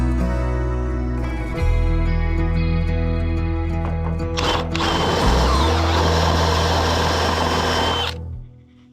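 A drill with a drill bit running on a sawmill setup from Harbor Freight, a loud, steady whining motor hum with strong harmonics that shifts pitch midway and then cuts off, with no talking.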